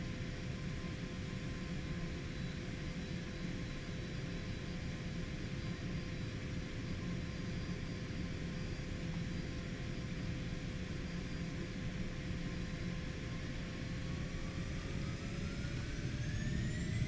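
Cessna Citation X jet engines whine and rumble steadily during a takeoff roll in a flight simulator, a constant broadband roar with a rising tone toward the end.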